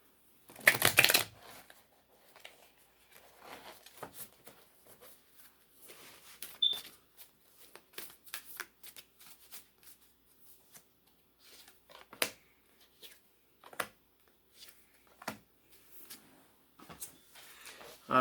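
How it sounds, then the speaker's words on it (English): Tarot cards are shuffled by hand in a quiet room, a loud riffling burst at the start followed by long stretches of soft, irregular card slides and taps, close and faint, without speech. "One more shuffle."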